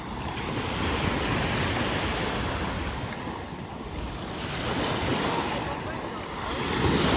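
Ocean waves washing onto a beach in Barcelona in hot summer weather, a steady broad surf roar with slow swells and wind buffeting the microphone.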